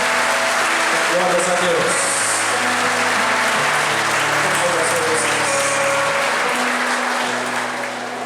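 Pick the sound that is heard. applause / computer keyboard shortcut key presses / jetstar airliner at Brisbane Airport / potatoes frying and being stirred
applause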